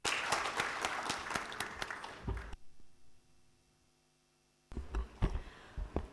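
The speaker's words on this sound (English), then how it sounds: "A round of applause for the esteemed panelists." Audience at a summit panel applauds the panelists: dense, loud clapping for about two and a half seconds, a quiet lull, then a shorter renewed burst of claps near the end.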